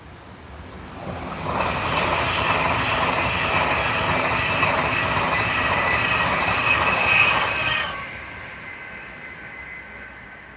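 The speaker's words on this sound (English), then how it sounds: "And here comes the next train, an Avanti West Coast Class 390." An Avanti West Coast Class 390 electric train passes close by, a loud rushing roar with rhythmic wheel clatter that swells in, holds for several seconds and then cuts away, with no talking.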